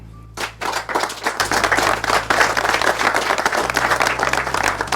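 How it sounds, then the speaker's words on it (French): Applause fills the room in a scene from a Cameroonian film: a sudden burst of clapping swells into a dense, lively wave that holds steady for several seconds over a faint low hum. "Je vous demande de les applaudir."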